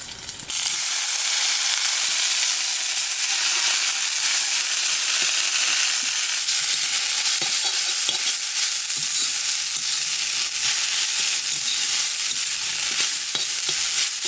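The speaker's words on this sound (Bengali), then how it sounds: "কাঁচা লঙ্কা রসুনটা একটু ভেজে নিয়েছি, এবার ধনেপাতা দিয়ে দেবো।" Green chilli, garlic and coriander leaves crackle in hot oil, a loud, continuous sizzle with frequent stirring clicks, no talking.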